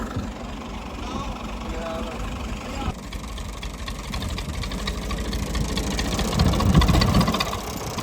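A farm tractor engine runs with a steady mid-pitched rumble that swells louder toward the end, heard close by during outdoor brick and soil work.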